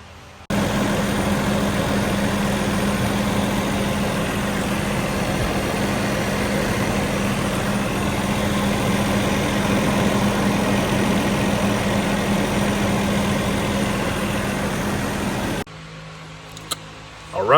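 A truck engine idles steadily after an air leak repair, a continuous low rumble with a constant hum that holds for about fifteen seconds before cutting off. A few clunks follow at the end.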